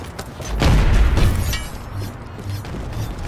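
A grenade detonating in the PC shooter Ballistic Overkill, a deep, rumbling boom that swells and fades over about a second, followed by low mechanical rattles and creaks.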